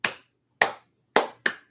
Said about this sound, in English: We're going to clap 4 times for those letters.